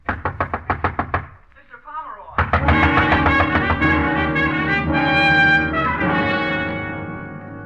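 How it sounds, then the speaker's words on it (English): Loud, rapid pounding knocks on a hotel room door, a burst of about eight sharp raps, then sustained music swells underneath. "The bellboy out there pounding on the door."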